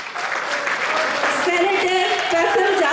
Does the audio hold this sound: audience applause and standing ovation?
yes